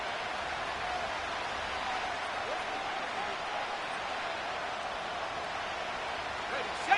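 A stadium crowd in Madden 25 keeps up a steady, dense roar late in the fourth quarter of a Dolphins game. The noise stays even and broad throughout, with a brief sharp peak at the very end.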